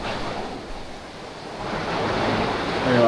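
Ocean surf surges and rushes into a pink rock cave on a rocky shoreline, a steady roaring wash that builds louder toward the end, with wind buffeting the microphone.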